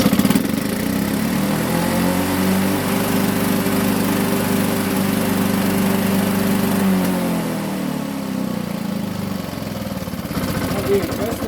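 A Victa Corvette Series 500 two-stroke lawn mower engine runs steadily and loudly up close during repair, a buzzing drone that dips and slows near the end, with people talking over it.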